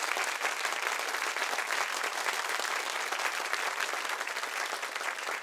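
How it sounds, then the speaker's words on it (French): Steady, dense applause from a studio audience on a French talk show, even clapping with no break for several seconds. "Je vous demande d'applaudir Lincha,"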